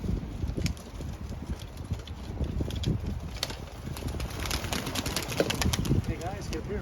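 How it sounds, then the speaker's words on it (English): A flock of doves released at a memorial celebration, with rapid wing flaps and fluttering scattered across the whole span over a busy outdoor background. "we're going to release this flock of doves in remembrance of all those loved ones"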